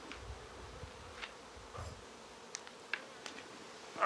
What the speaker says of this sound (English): Get away from me, bee.